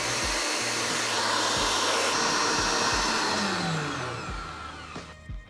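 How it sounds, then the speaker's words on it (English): An electric mixer whisks eggs and sugar for a sponge at high speed, a loud steady whirring drone that holds before slowing and cutting out near the end. "So we'll get that whisking on a high speed."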